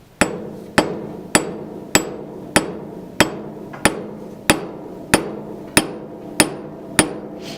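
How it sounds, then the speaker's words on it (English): A hammer strikes sheet metal about a dozen times at a slow, even pace. Each blow is a sharp, close, ringing clank that fades before the next, with no other sounds. "as soon as I make one hammer strike, I'm just going to move it subtly so that half of that overlaps with my previous hammer strike"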